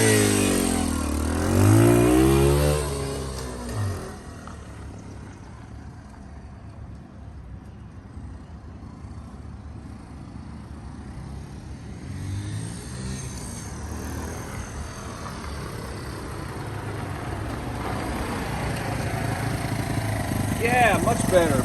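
A 2015 Lifan Pony 100cc motorcycle engine runs close by, a low steady idle with a brief rise in revs at the start and a slight swell near the end, while someone talks over it.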